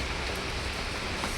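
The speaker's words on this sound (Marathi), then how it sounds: "आणि तुम्हाला दाखवते बाहेर पाऊस पडतोय हे बघा" Rain falls steadily outside, a dense, even hiss of drops on surfaces, continuous and fairly close with no pauses.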